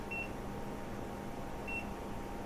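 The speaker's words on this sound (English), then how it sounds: "let's set that timer for, I'm going to set it for 9 minutes" A kitchen timer being set while fish tacos are cooked gives two short, thin electronic beeps, spaced about a second and a half apart, over a quiet background hum.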